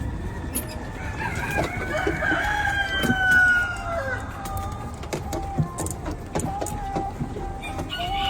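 A rooster crows on a farm with chickens, turkeys, quail, rabbits and goats in Havana, Florida, a drawn-out call rising and falling over several seconds amid other fowl clucking and faint background noise.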